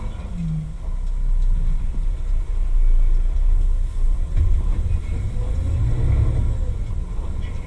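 Heavy truck engine rumbling while driving, a deep loud low drone that swells and surges with the load, heard close with no talk.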